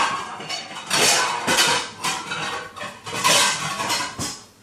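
Dishes, bowls and cutlery clink and clatter in a home kitchen while a bowl is taken out during steak dinner prep, with several bright bursts of rattling close by.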